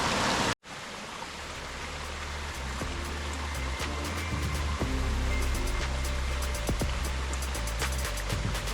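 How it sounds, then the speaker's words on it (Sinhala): Water from the Ella Uda Ella waterfall in Sri Lanka pours and flows among trees, a loud, steady rushing roar that continues without a break. "මේ බලන්න හැමතැනින්ම වතුර යන්නේ"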